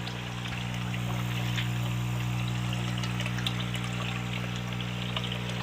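A water-supply pumping machine by a fish pond runs with a steady low mechanical hum, while water pours and trickles continuously throughout at moderate, even level.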